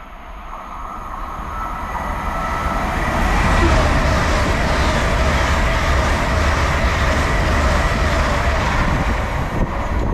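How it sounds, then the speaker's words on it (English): An LNER Azuma train bound for London King's Cross from Aberdeen passes through a station on the East Coast Main Line, a loud continuous rushing roar of wheels and air that swells quickly and holds steady close by. "We have an LNER Zoomer passing through, heading to London King's Cross"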